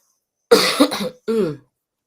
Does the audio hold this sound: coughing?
yes